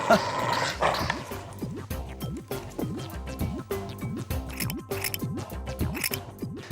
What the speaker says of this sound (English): we need to cut small pieces of wool like this